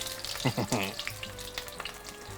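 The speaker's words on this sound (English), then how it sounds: "we're going to let these fry for, I'm not entirely sure, really it's until they are golden brown" Pieces of food sizzle in hot oil in a frying pan, a steady close crackle with a brief voice-like sound over it near the start.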